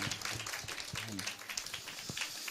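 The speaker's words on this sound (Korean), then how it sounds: "은혜상 11명 박수로 격려하겠습니다" A church congregation at a Sunday Christmas service claps for award recipients, a loose patter of many hands at moderate distance, continuing steadily through the clip with some background voices.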